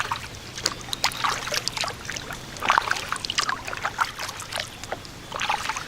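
A kayak paddles along a river following the Union Canal, with repeated close splashes and drips from the paddle blades over a soft, steady watery wash.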